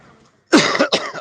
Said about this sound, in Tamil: 2 வாரமா நல்ல இருமல்.